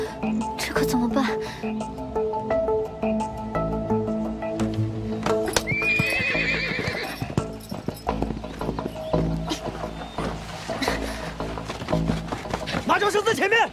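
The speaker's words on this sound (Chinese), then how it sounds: "马叫声在前面" Horses whinny loudly in an ancient Chinese costume film scene, a rising neigh cutting through clattering hooves, thuds and bustling action, with people talking around it.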